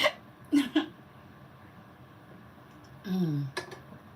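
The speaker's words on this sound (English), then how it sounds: "I have hiccups." A person hiccups, several short, sharp vocal catches in a quiet room with breathy sounds between them.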